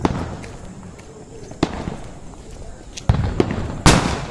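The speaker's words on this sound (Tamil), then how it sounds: "தொட்டியில் பட்டாசு மேலே துட்டி வச்சு துட்டி கடைசியில் எங்கே வெடிச்சுடுதுன்னு யாருக்கு தெரியாது" A few sharp pops crackle against a noisy outdoor background during Diwali, ending in one loud, bright bang of a firecracker exploding under a pot near the close.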